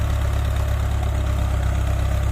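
A Ford 6640 tractor engine running at a steady idle close by during rainy-season work, a continuous deep rumbling drone with even vibration.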